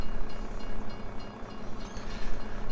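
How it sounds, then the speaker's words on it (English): A train rumbles and clatters past in the Farming Simulator 22 video game, a loud, close, uneven rolling roar with rhythmic clanks over a few seconds, no voices. "Goodbye, train."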